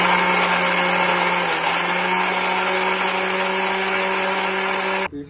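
A kitchen mixer grinder whirs loudly and steadily, blending a spice paste of tomato, onion, garlic, ginger and chillies with a little added water, running continuously before cutting off abruptly at the end.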